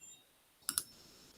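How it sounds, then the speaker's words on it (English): Computer mouse clicking, two quick sharp clicks close together near the middle, close and crisp against an otherwise quiet background. "You can hear the clicking now"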